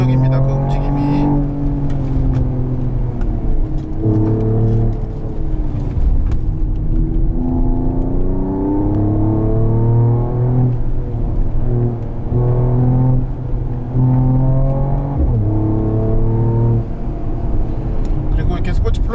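A 2022 Mercedes-AMG GT43 4Matic Plus drives a winding mountain road, its engine note loud and close, rising and falling through repeated tight turns and gear changes while someone talks over it.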